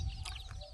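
Native country chickens raised free-range on a farm give a short burst of clucking, close and fairly clear, lasting under a second with no talk over it.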